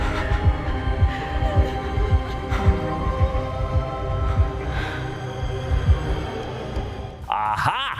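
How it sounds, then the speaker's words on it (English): Heartbeat sound effect from a Daredevil: Born Again hostage scene: a steady, deep throbbing pulse, loud and close, repeating evenly over a low hum, ending in a brief rising tonal sound. "notice the heartbeat slows way down because she's not at all stressed out"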